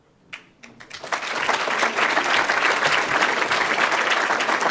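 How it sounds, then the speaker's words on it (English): Crowd applause for the mayor of Chicago: a few scattered claps at first, then the audience joins in and builds quickly into loud, sustained clapping that holds steady to the end. "let's give the mayor of Chicago a big round of applause"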